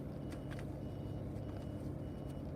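Faint, regularly spaced reversing beeps pulse over a heavy, rumbling engine drone from a large truck at a truck show at a Joplin truck stop.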